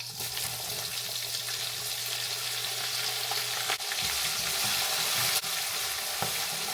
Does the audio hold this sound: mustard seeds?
yes